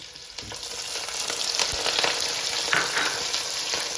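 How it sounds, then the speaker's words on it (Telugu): Chopped onion and cumin seeds hit hot oil, giving a steady, close, fairly loud sizzle with faint stirring clicks throughout and no voices. "ఆయిల్ అంతా మరిగిన తర్వాత మనము ఫస్ట్ ఆనియన్ జీలకర్ర వేసుకోవాలి"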